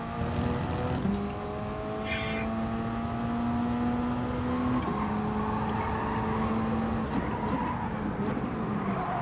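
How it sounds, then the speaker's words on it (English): A race car engine in a video game hums at a steady high pitch, its tone shifting as it accelerates and holds speed, loud and continuous. "Car sounds pretty good too."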